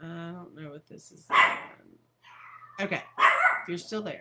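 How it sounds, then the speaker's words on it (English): A pet dog barks several times at close range, sharp bursts between stretches of a person talking indoors. "you can hear my dog barking"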